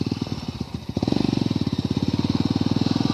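Honda CRF motorcycle engine revs up hard while climbing a hill, a loud, close, rapid pulsing exhaust note that rises and holds steady after a brief rougher start.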